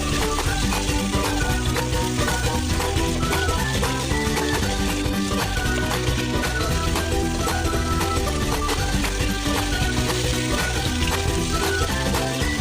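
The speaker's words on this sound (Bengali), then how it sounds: "আমার মাছগুলোর এক সাইড ভাজা হয়ে গিয়েছে, এখন আমি ধীরে ধীরে অপর সাইড উল্টে নেব" Pieces of fish fry in oil in a pan with a dense, steady sizzle that stays loud and even throughout, and no one speaks.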